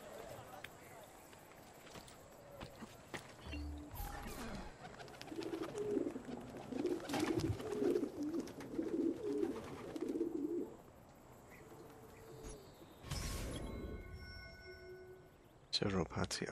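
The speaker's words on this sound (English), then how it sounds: "We get these missions from the bird boxes, I forgot." Pigeons coo in a soft, repeated burbling run at a bird box in Assassin's Creed II, mixed with game ambience, brief clatters and some voices.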